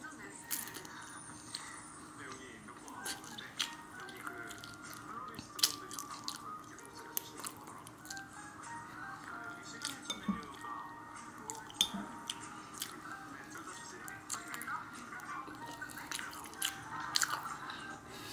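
Soft, close chewing and biting of wontons at lunch, faint wet crunches and squishy mouth sounds repeating irregularly over a quiet background.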